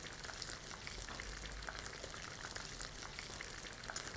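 Tomatoes fry in oil for an apple gourd (tinda) curry, making a faint, even crackle like light rain that keeps up without a break.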